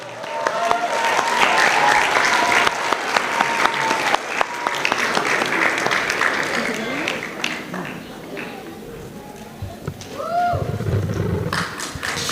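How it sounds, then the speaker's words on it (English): A crowd applauds at a primary school graduation, sustained clapping for the first several seconds that thins out, with voices and shouts mixed in later. "give him another round of applause"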